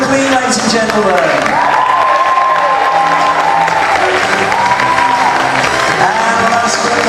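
A variety-show audience applauds and cheers a performer as a loud, steady crowd roar with whoops throughout, while a voice over a microphone rises over the noise in long tones.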